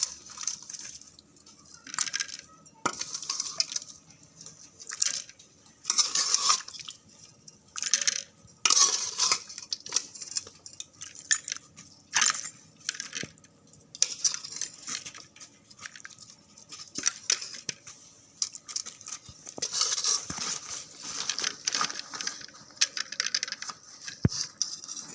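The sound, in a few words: beef curry being spooned from the pot into a bowl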